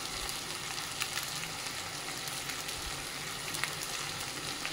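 Rice frying in a pan for paneer fried rice, giving a steady, even sizzle that runs unbroken from start to finish with no voices.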